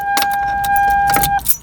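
Metal key rattling and jiggling in a stuck ignition lock cylinder of a 1997 Toyota Camry, a close series of clicky scrapes over a steady electronic chime tone that stops near the end.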